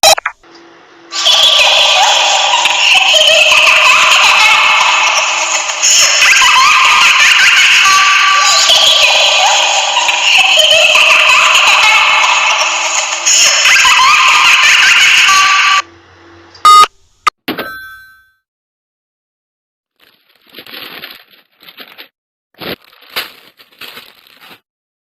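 A spooky demon doll sound effect, a dense, loud, eerie warbling texture sustained for about fifteen seconds, then cut off into scattered faint clicks and blips.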